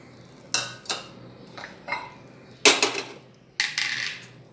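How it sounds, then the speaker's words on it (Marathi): Roasted tomatoes dropped into a steel mixer jar produce a few separate clinks and soft thuds, close and alone, with short knocks spaced across a few seconds. "मिक्सरचं भांडं घ्यायचं, त्याच्यामध्ये भाजलेले दोन टोमॅटो घालायचे"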